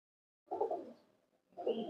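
Two rounds of soft, throaty cooing from imported high-flyer pigeons in a loft, close by and moderately loud, with a short pause between them and no talking.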